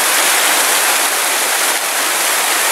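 Çaylak Creek rushes along near its waterfalls, a loud, dense, unbroken wash of flowing water filling the air close by, with no voices over it.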